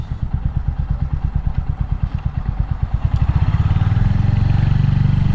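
A Royal Enfield Hunter 350 single-cylinder motorcycle with a modified exhaust pipe, loud and close, its rhythmic thumping idle rising into a faster, steadier engine note as it revs.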